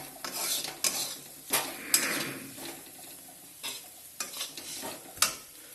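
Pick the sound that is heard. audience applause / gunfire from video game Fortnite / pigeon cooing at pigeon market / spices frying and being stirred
spices frying and being stirred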